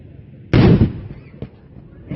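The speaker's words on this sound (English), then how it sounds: "There'll be a little bit more drilling while they get the cannon ready for the next shot." A ceremonial cannon fires a single loud blast at a historic fort in St. Augustine, a sharp boom with a brief rumbling tail, followed by fainter scattered thumps and echoes.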